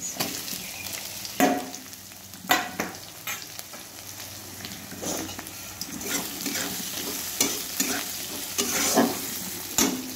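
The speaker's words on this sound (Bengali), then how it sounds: "পেঁয়াজটাকে লাল করে ভেজে নেব" Chopped onion and ginger fry in a pan, a steady close sizzle broken by sharp irregular scrapes of a spatula stirring, with no talking.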